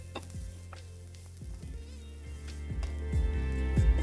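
Spices with Kashmiri chilli and coriander powder stirred in a pan over a very low flame, a soft steady sizzle with faint scraping strokes of the spoon, close and quiet, with no talk.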